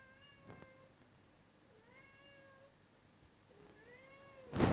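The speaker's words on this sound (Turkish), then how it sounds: "Ya neden miyavlıyorsun?" Three drawn-out cat meows, spaced a second or so apart, followed by a sudden loud rustling bump at the very end.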